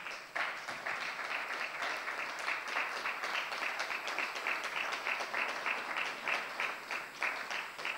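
Sustained applause from a conference audience at a legal event honoring a human rights law award recipient in Tanzania, dense even clapping from a crowd at moderate distance, with no speech over it.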